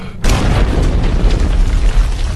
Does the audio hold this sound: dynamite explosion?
yes